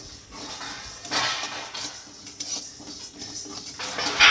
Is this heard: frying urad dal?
yes